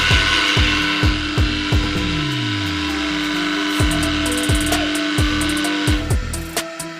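Vibrating feeder on a bolt riveting machine with automatic feed running, a steady mechanical buzz with regular rhythmic knocks and a brief rising whir, close and fairly loud with no speech.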